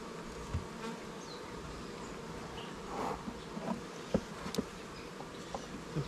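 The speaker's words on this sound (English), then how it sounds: "the heck you got bees buzzing me." Honey bees buzz around a beehive during a first-year hive inspection, a soft steady drone with individual bees passing close and faint clicks and knocks of hive frames scattered through.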